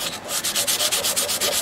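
A wooden twelve-string custom dreadnought acoustic guitar being hand-sanded with 220 grit sandpaper, a steady close scratching rasp of rapid back-and-forth strokes with no talk.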